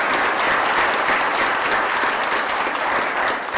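An audience at a legislative candidate forum breaks into a steady round of applause, dense clapping held at an even level throughout with no voices rising above it.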